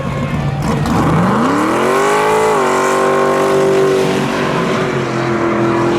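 A Chevy Blazer at a Memorial Day spectator drag race revs hard, its engine pitch climbing and then holding at a steady, loud roar, with no voices over it.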